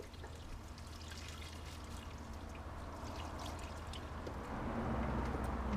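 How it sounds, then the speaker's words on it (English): Water pouring from a watering can to rinse the wheels of a 1995 BMW E36 318i, a steady soft splashing stream that swells slightly louder toward the end, close by with no talk. "I've got my watering can. I'll just rinse this stuff off"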